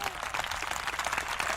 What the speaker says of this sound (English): How about a big round of applause for them?